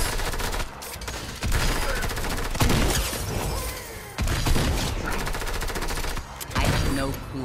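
Rapid shotgun blasts from a boss enemy in Fortnite ring out in loud repeated volleys with short gaps, layered over dense game effects and music.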